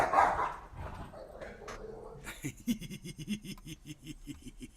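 A dog lets out a low rumbling growl that breaks into a quick series of sharp, rhythmic barks and yips, fairly close.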